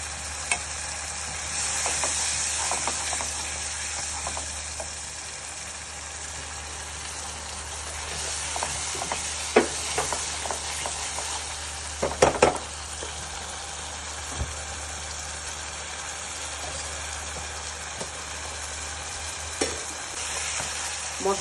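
Spice paste with cumin powder sautéed in a pan for rui fish head muri ghonto, a steady close sizzle with scattered spatula scrapes and a brief cluster of louder clatter partway through.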